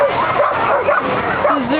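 Puppies yip, whimper and bark in quick, high, near calls outdoors in bitter cold, with short repeated cries running the whole time.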